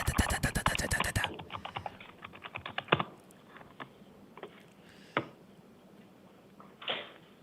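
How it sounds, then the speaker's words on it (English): Rapid keyboard typing close by in a courtroom: a dense burst of clicking keys, then slower, scattered keystrokes with pauses. "He's going to be typing all mad."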